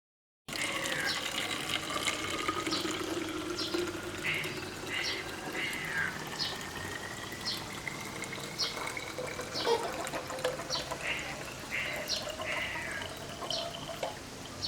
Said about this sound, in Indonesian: tuangkan cairan tersebut ke dalam botol plastik, tuangkan dalam keadaan masih panas